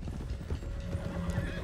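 A horse in Red Dead Redemption 2 clopping its hooves with a neigh, steady medium-loud gameplay sound with no talking over it.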